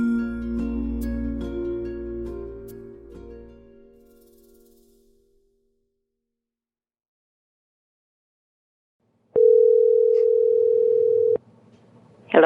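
A telephone call begins with a decaying musical tail fading into silence, then a loud steady single-pitch tone holds for about two seconds and stops abruptly, followed by faint line noise and a click.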